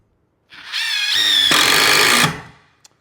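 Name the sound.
DeWalt Atomic impact driver driving screws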